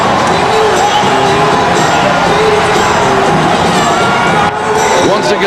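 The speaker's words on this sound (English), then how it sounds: "This is the biggest New Year's Eve crowd I've ever seen" A huge New Year's Eve crowd in Times Square, New York, for the 2000 ball drop cheers and whoops loudly, a dense roar of shouting voices filling the space without letup.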